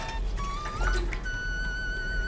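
Hot water poured for kneading rice flour dough for kuzhal murukku, a steady close liquid stream with rising tonal gurgle as the vessel fills.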